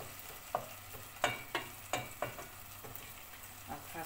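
Tomato paste and onion sautéing in a pan for a bean stew, a low sizzle punctuated by several sharp scraping stirs of a utensil, close and moderately loud.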